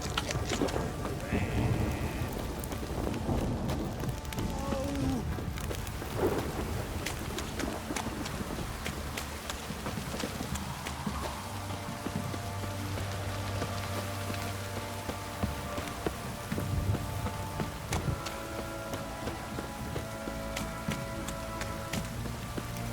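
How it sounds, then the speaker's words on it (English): A heavy rain downpour drums steadily on surfaces, a dense, constant wash with low rumbles and scattered clatters mixed in, while voices speak intermittently. "This downpour's a bastard"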